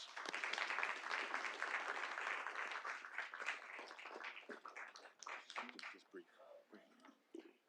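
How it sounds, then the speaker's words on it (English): Applause breaks out at a City of Little Rock board meeting, a soft, distant wash of clapping that thins into scattered individual claps before dying away. "Let's give them a round of applause."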